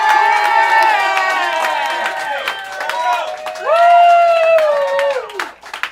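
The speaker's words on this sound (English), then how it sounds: "If you think Christian Finnegan won this battle, clap your hands" A loud comedy roast battle audience cheers and whoops with sustained shouting voices, clapping crackling underneath throughout.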